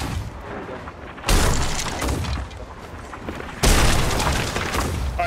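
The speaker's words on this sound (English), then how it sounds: "Sharpie, hit him with cannons" Two heavy ship-cannon blasts boom out in a Sea of Thieves naval fight, each a sudden loud crack that rolls into a rumbling tail, the second landing a couple of seconds after the first.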